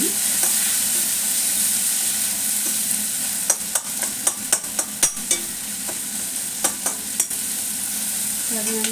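Chilli powder fried for millet khichdi, a constant loud hissing sizzle with a run of sharp spatula knocks against the pan clustered in the middle.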